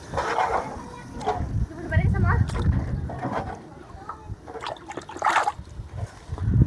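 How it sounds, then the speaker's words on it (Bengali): Raw meat being rinsed by hand in water while cooking outdoors at a family picnic, with irregular splashes and sloshing close by, partly under talk. "এখন মাংস একটু ধুয়ে নেই।"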